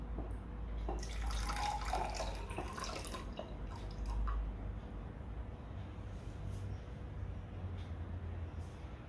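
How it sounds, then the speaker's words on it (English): Water trickling and dripping as it is poured into the two outer glasses of a row of three for a walking water science experiment, a steady close pour with light splashes. "pour half glass of water into the 2 outer cups"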